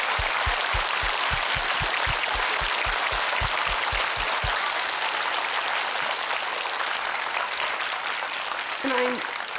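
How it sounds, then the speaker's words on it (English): A group of people clap together for an educator award ceremony, starting with a steady, evenly spaced rhythm of claps that holds for about four and a half seconds, then trails into a broad room roar of applause and cheering. "let's clap for everyone standing up here one time"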